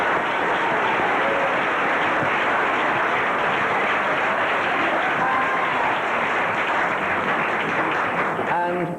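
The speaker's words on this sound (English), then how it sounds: "tonight I'm sure you'll give a lovely big round of applause" A school play audience gives a long, full round of applause, sustained crowd clapping at steady loudness throughout.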